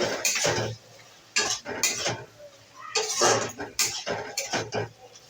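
A spoon stirs cabbage curry in a metal pan, giving repeated scraping and clinking strokes in uneven bursts, close and fairly clear with no talking.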